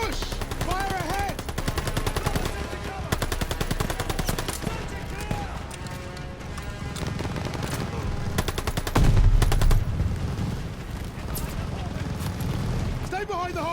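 Dense bursts of rifle and machine-gun fire crackle nonstop in a Call of Duty Vanguard beach-assault battle, with heavy booms and shouted soldier voices over the shooting.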